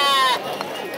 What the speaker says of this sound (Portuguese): aqui as cabras paridas